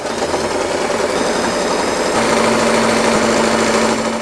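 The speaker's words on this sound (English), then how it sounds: "Let's take this to the sewing machine." A sewing machine stitches fabric for a ruffle headband, running as a loud, steady, fast mechanical whir close up, rising slightly in pitch partway through.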